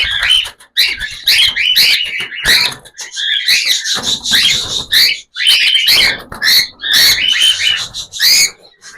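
Cockatiels chirp loudly and close by, a busy run of shrill, repeated calls in bursts with short pauses between.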